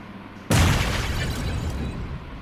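A video game bomb explodes with a sudden loud broadband blast, followed by a sustained rumbling roar that slowly fades, with no talking over it.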